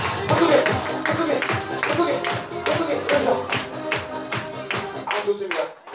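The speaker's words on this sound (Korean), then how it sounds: "박수 좋습니다." Guests clap at a baby's first birthday party in Korea, a run of fairly loud, rhythmic handclaps continuing over a few seconds before easing off.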